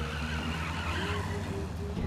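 Tires skid on a battered, rusty old car in The Saboteur, a worn-out wreck with holes and a wheel nearly falling off and smoke pouring from the engine; a steady engine drone carries under the skid for about two seconds, with no talking.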